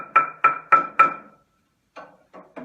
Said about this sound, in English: If you take a bar by itself and you hit it not on a resonator, it sounds like this